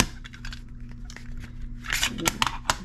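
Cellophane wrap is torn and crinkled off a cassette tape box set in short rustling bursts that grow louder and denser near the end, over a low background hum.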